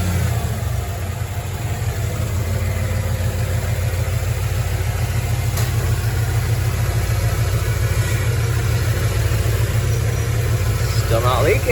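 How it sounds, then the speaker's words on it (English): A car engine idles steadily while warming up to temperature in a shop, a loud, even, low rumble running continuously throughout with no revving. "let's just idle it, let it get up to temp"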